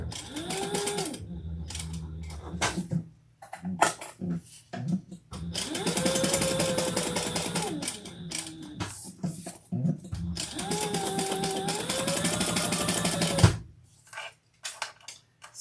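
A sewing machine stitching ripstop fabric pieces together with right sides facing, running in several bursts of whirring, rising and falling motor hum separated by brief pauses and clicks, heard up close.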